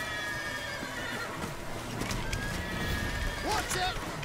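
A horse whinnies briefly over steady background noise, with faint hoofbeats and a voice speaking, in the video game The Witcher 3.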